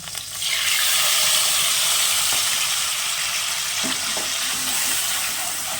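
Ground mustard paste frying and being stirred in oil with green chillies for a fish curry makes a loud, continuous hiss of sizzling, with a few soft stirring scrapes and no voice.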